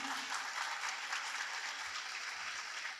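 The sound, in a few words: audience applause welcoming a poet at an Urdu mushaira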